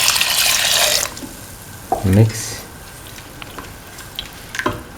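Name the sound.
pouring coconut milk into the stew pot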